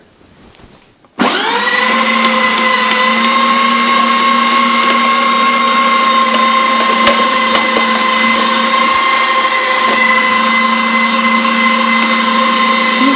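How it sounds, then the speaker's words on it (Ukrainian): A kitchen meat grinder or electric appliance switches on and runs steadily, grinding garlic for homemade sausage; a loud, constant motor whine with a stable pitch continues alone after the start. "ми також подрібнюємо часник"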